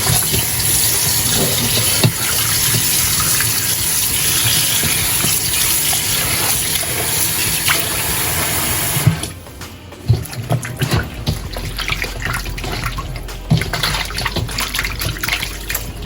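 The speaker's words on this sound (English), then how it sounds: "Get some fresh water again." Tap water runs steadily into a sink for rinsing steak, then cuts off halfway, leaving drips, splashes and handling noises.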